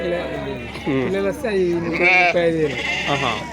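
Sheep and lambs bleat close by at the Narketpally weekly livestock market, with several overlapping wavering calls in quick succession.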